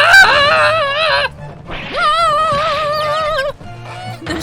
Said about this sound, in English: There's chickens falling out.